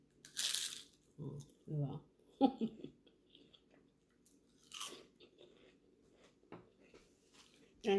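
Someone bites and chews crispy rice paper close to the mic, a series of sharp crunches and crackles separated by short pauses. Brief soft speech is heard between the bites.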